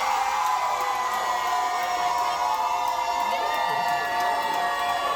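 A contest audience aboard a Margaritaville at Sea cruise screams, cheers and applauds, a dense, loud, unbroken wall of crowd noise lasting the whole stretch.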